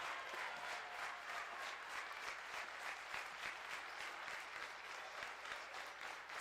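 Steady, loud applause and cheering from an indoor crowd on its feet at match point of a college volleyball match, Alaska against Simon Fraser, filling the whole stretch without a break.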